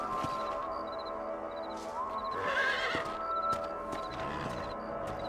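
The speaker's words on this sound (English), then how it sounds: "Oye, ese es mi caballo." Horse in Red Dead Redemption neighs and whinnies loudly, with clip-clopping hooves over a steady game ambience and a high chirping tone that repeats.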